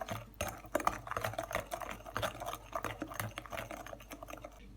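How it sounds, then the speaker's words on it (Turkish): Cake batter being stirred in a bowl right after a teaspoon of baking soda goes in, with a steady run of soft, wet scraping and tapping strokes at close range and no talking. "Bir çay kaşığı karbonat ilave edip şöyle bir tekrar karıştıralım."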